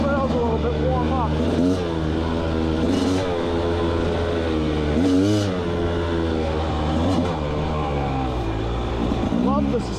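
Rieju MR300 Pro dirt bike ridden on a trail, its engine droning steadily and close throughout, rising and falling in pitch with repeated revs and throttle changes.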